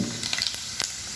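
Cumin seeds hit hot oil in which mustard seeds have been heating, a short, dense sizzle with a few sharp pops and crackles close by.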